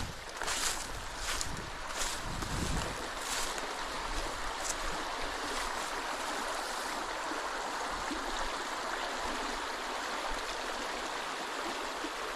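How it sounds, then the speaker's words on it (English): Water flows steadily through a half-frozen river in a constant rushing wash, with a few brief splashy bursts early on and no talking. "Oh yeah, definitely running water."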